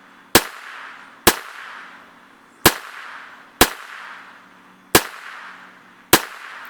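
Six sharp, close rifle shots from Winchester White Box .22lr ammunition, fired at a steady pace about one second apart, each cracking out and decaying quickly with no talking in between.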